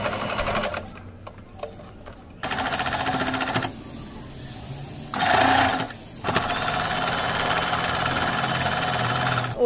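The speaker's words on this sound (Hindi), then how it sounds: "यहाँ से सिलाई लगानी यहाँ तक और यहाँ से ये यहाँ तक सिलाई" Sewing machine stitching a small zip purse, running in several loud bursts of steady mechanical whirring separated by short pauses, close up.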